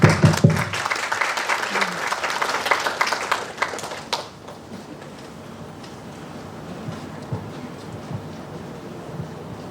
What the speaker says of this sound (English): Please give a big applause welcoming Dr. Phairat Pibul Rungrod, Associate Dean of Faculty of Economics,